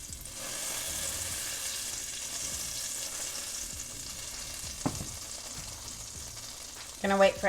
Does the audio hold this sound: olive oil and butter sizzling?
yes